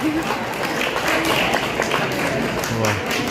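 An audience of college students clapping during a stage play at GDC College Kullu, a continuous dense round of applause with crowd noise and faint voices mixed in.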